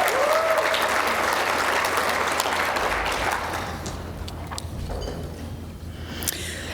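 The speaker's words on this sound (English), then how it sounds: "A big, big round of applause for the recipients in this category this evening." Audience at a university award celebration applauding the recipients, loud sustained clapping that gradually thins and fades toward the end.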